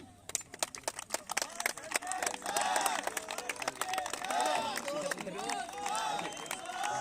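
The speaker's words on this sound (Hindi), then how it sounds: "एक बार जोरदार तालियां।" Audience applause at an academy event honouring recruits selected for the Delhi Police, with lively clapping and crowd murmur mixed with voices over the whole stretch.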